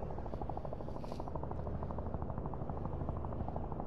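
Helicopter rotor in the VR shooter Virtual Battlegrounds, a steady rapid thudding chop with a droning engine hum, loud and continuous throughout with no talking.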